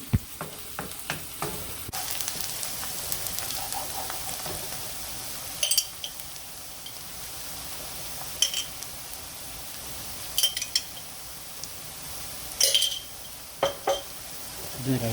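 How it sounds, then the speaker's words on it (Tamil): Sliced onions fry in oil for a spicy chicken masala, giving a steady close sizzle while a metal spoon stirs them, with scattered clinks and scrapes against the pan throughout. "வெங்காயம் வந்து நல்லா லைட்டாக ப்ரௌன் ஆகிற வரைக்கும் நல்லா வறுக்கணும்"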